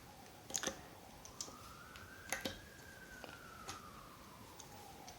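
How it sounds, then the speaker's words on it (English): A faint siren wails in the distance, its tone slowly rising and falling, with a few soft clicks and taps close by. "Sorry if you hear the sirens"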